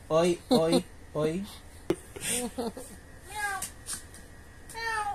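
A cat meows repeatedly up close, a series of short, insistent cries with brief pauses between them.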